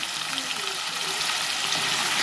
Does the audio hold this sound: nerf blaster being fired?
no